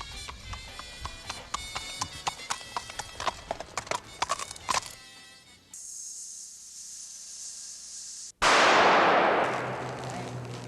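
Hooves of mounted police patrol horses clip-clop in an uneven rhythm on a hard surface in a stockyards area for several seconds, then give way to a steady hum and a burst of loud hissing noise.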